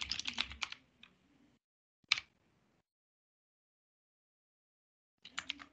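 Keystrokes on a computer keyboard come in short bursts, quiet and close, with a lone clack and long silent gaps between the bursts.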